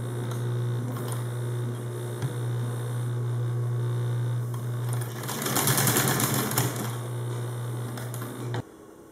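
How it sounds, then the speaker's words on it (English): A heavy-duty sewing machine stitches slowly through thick Kydex sheet, a low steady motor hum with faint needle ticks and a brief busier burst of mechanical clatter near the end. "even with my heavy duty sewing machine, I'm just walking it through really slow by hand just to make sure I don't break a needle"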